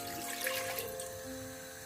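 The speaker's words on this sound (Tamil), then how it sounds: "நான் ஒரு பாத்திரத்தில் 3 கப் தண்ணி சேர்க்கிறேன்" Three cups of water poured into a cooking pot for Aadi kool, a steady continuous rush of running water, close and fairly even throughout.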